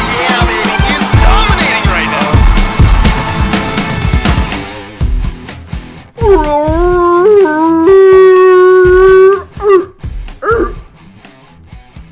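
A man imitates a seal with a loud, strained, wavering bark-like howl, rising and sustained for a few seconds after a stretch of noisy chatter, with another voice briefly following.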